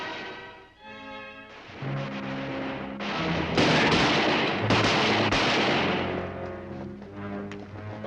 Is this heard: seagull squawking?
no